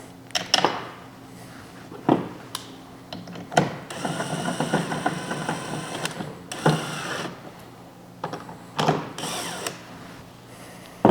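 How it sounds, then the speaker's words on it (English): Power drill seating screws while a Torqeedo motor is mounted on an RVR119 boat, heard as several short whirring bursts and a longer sustained run with pauses between, close and fairly loud. "I'm gonna go ahead and seed the rest of the screws first"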